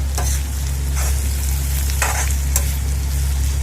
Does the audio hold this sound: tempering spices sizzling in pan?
yes